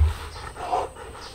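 A one-year-old pack dog pants close by in quick, soft breaths, brief and moderately quiet.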